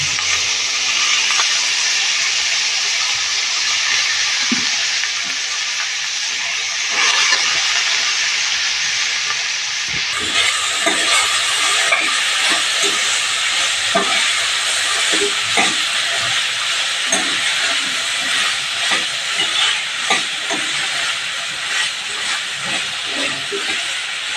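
Guar beans and potatoes sauté in oil in a pressure cooker, giving a steady, close broadband sizzle and hiss. Faint scraping and stirring clicks recur throughout, and the sizzle brightens and grows louder about halfway through.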